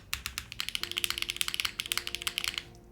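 Rapid clacky keystrokes on a Space82 Bladerunner custom mechanical keyboard, a steady close-up burst of typing with a slightly metallic ring and no voices.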